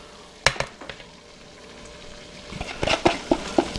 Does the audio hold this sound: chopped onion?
yes